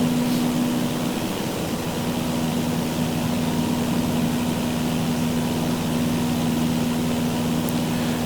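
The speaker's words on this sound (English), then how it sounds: "And I'm flying the Cessna that's included with 2024." A Cessna propeller engine in Microsoft Flight Simulator 2024, a steady loud drone with a constant hum, unchanging throughout.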